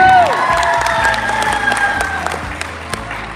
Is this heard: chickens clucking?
no